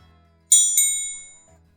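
Two bright bell strikes in quick succession, ringing clearly and decaying slowly over about a second, with near silence around them.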